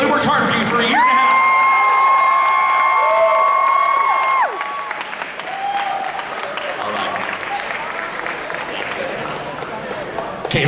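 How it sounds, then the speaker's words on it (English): Audience applause and cheering at a Power Rangers convention panel, sustained clapping with whoops from a large crowd, overlapped by a sustained music tone early on and continuing at a lower level throughout. "Come on, clap for these people."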